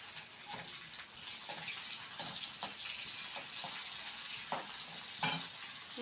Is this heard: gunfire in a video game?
no